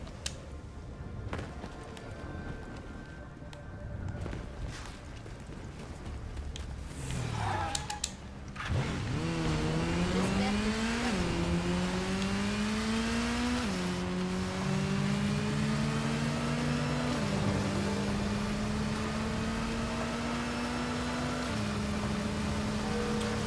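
A motorcycle in the game Gotham Knights roars up, its engine rising through several revving gear-like sweeps and then settling into a loud, steady drone that holds to the end.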